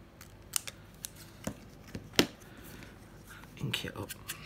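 Scissors snipping through pink patterned paper for a craft tag, several short crisp cuts spaced irregularly, close and fairly quiet, with handling rustle between them.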